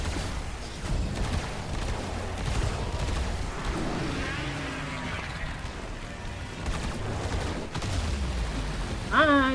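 Dense, continuous gunfire in Warframe aimed at an Eidolon's arm, with heavy rapid bursts and booming impacts under occasional talk.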